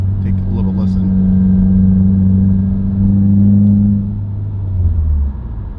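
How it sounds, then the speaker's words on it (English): Inside a Subaru WRX with a broken viscous coupler in the center differential, a steady low droning hum sits under engine rumble, holding a sustained tone before fading as the car slows. "The interior of a car with a broken viscous coupler. Can you hear that little buzzing noise?"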